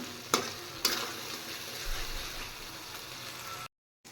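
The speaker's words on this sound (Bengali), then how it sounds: "এবার মশলাটা একটু কষিয়ে নেব" Spice paste with salt, turmeric and chilli powder frying for a fish curry, producing a quiet steady sizzle with two sharp clinks of a utensil near the start, then a brief cut to silence near the end.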